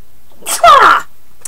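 A single sharp sneeze bursts out loud and close, a short breathy intake followed by an abrupt explosive burst, then quiet.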